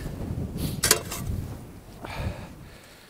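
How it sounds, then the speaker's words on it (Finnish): Strong gusts of wind on a shore buffet the microphone in uneven bursts, with rushing noise rising and falling over a low rumble; no one speaks. "Täällä kyllä puhaltaa ihan kunnolla."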